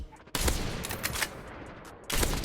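Sniper rifle fire in the mobile shooter Call of Duty: Mobile: two loud, sharp blasts with a decaying rumble, the second following almost two seconds after the first, and no voices.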